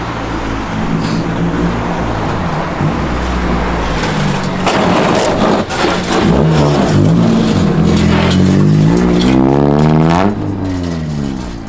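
A lowered Honda Del Sol driven hard into a parking lot, its engine revving loud and close with pitch climbing and sweeping as it accelerates, then easing off.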